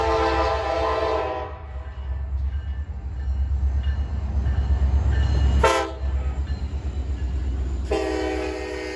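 Alaska Railroad Denali Explorer train passes close by, a loud rumbling roll under repeated long horn blasts that cut off and return.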